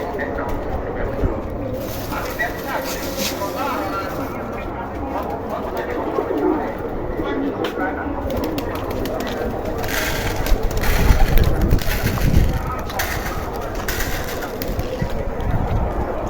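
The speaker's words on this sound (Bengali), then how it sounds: "কবুতরগুলো সব খাবার খাচ্ছে পানি খাচ্ছে" Pigeons feeding and drinking nearby, with soft pecking and crunching of grain, occasional low cooing and wing shuffles, while a person talks in the background.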